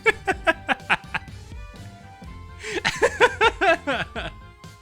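A voice imitates an angry Zeppelin from the Azur Lane game, making short squeaky chirps like a child's toy. The bursts come in a quick series, pause, then return in a louder cluster.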